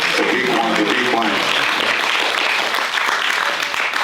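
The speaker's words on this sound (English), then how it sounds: "I want to see that hands of applause once again." A crowd at a youth music performance event bursts into loud, sustained clapping that fills the space, with a voice briefly audible over it at the start.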